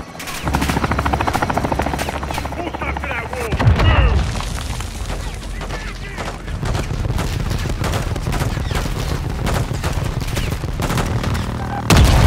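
A Modern Warfare II attack helicopter makes a gunfire run on a building, its rotor thrumming under rapid bursts of heavy gunfire and booming impacts, with radio chatter mixed in.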